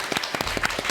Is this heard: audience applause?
yes